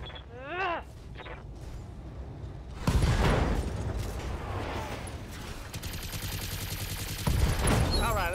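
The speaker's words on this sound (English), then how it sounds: "Ammo explosions." Ammo explosions in the BattleTech game come as a burst of rattling, booming blasts after a short quiet stretch, then a sustained crackle of detonations with a heavier hit near the end. A brief voice is heard near the start.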